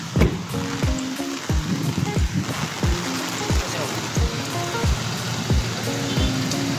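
A dense, steady hiss of heavy rain pours throughout a flood, with a rhythmic thumping beat and faint tonal sounds mixed underneath.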